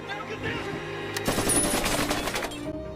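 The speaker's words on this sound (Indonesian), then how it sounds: "mobil yang dinaiki Jonas malah dihujani peluru oleh robot tersebut" Rapid machine-gun fire from a robot raking a car in an action film, dense bursts of overlapping shots over about two seconds, loud and close with a chaotic rattling texture.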